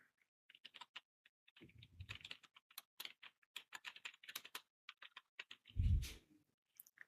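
Typing on a computer keyboard while entering text for a logo design in Canva, with quick irregular bursts of close key clicks, a soft thump partway through and a louder low thud near the end, without any speech.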